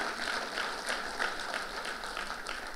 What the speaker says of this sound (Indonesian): Tepuk tangannya yang meriah buat Tuhan kita.